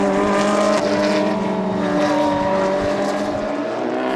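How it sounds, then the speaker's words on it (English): Supercars including a Ferrari race at Spa-Francorchamps in a Supercar Challenge round, loud engines roaring at close range in a sustained, layered drone with shifting pitch as the cars jostle for position. "Roger Graals pulls out behind Jim Geddy, trying to get by the Ferrari"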